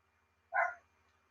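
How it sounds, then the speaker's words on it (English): A single short dog bark from upstairs inside a home, muffled and moderately faint, rising once and fading within a fraction of a second against a quiet background with a low steady hum. "Can you hear my dog barking?"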